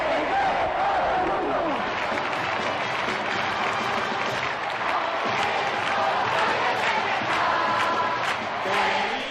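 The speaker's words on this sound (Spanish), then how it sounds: "Momento en el que todo el Bernabéu estalló en un clamor." A packed Santiago Bernabéu stadium crowd roars and cheers for Pope John Paul II, a dense, loud, continuous clamor of many voices with scattered shouts and applause that holds steady throughout.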